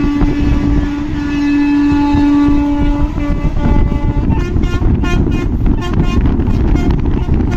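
An Intercity Express train runs on the rails along the Chilka Lake route in Odisha, with a loud, steady wheel-and-carriage rumble throughout and a sustained horn tone in the first few seconds.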